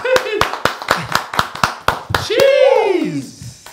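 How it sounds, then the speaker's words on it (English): A small group claps in loose, distinct bursts in a podcast studio, about eight sharp claps spaced through the first half, then a voice rises with a drawn-out exclamation and cheering over the last few claps. "Let's give him a round of applause."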